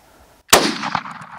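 A single sharp rifle shot cracks out loud and close during a hunting safari at Leeuwkop, following near silence, with a long rolling echo and rumble trailing behind it.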